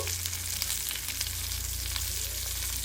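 Fish fries in a pan, a loud continuous crackling sizzle over a low steady hum, with no talking.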